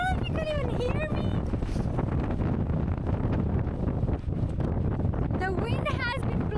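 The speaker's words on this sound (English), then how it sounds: "The wind has been blowing so strong. I can't walk." Strong, relentless wind buffeting the microphone on an exposed, cold hillside hike to Alport Castles, a constant loud roar throughout, with someone talking over it.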